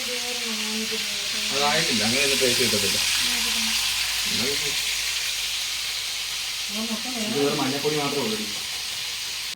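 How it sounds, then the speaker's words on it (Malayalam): Onions being sautéed in a pan give a steady, even hiss of frying that runs throughout, while people talk over it. "അകത്തിരുന്ന് ഉള്ളി വഴറ്റി"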